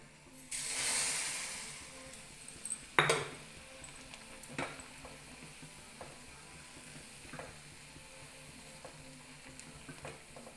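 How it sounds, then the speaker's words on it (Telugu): Vermicelli tipped into a pot of boiling water, with a soft rushing pour at first, then a sharp clank of a utensil against the pot and lighter scraping stirs, fairly close and quiet, with no talk. "మనం ఇప్పుడు సేమియా వేసుకుందాం."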